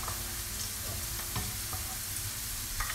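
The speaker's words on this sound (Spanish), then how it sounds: "Ponemos aceite, unas gotas, dos dientes de ajo sin pelar." Two unpeeled garlic cloves sizzling in a few drops of oil in a pan, a steady close crackling fizz with occasional sharp pops and light scrapes.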